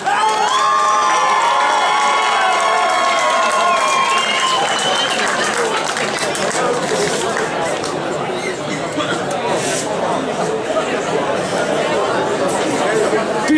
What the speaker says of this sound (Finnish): äärimmäisen paljon enemmän aplodeja mitä äsken